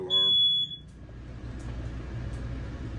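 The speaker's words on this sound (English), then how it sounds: "Oh, fire alarm." A single piercing high beep from a smoke alarm in an RV while cooking on an electric griddle, loud and close for about half a second, then fading into quiet room noise.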